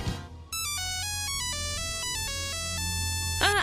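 A Nokia mobile phone ringtone plays its familiar stepped melody of bright electronic tones, fairly quiet and steady, in a game-show brand quiz, with no one speaking over it.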